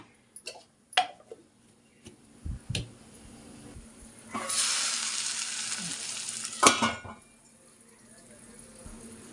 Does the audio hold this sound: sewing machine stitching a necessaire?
no